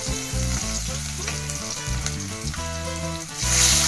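Small chopped tomatoes hit hot oil in a pan while cooking tomato chaaru, giving a continuous loud sizzle and crackle that swells at the end, with no talking.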